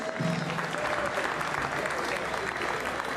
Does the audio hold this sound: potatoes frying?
no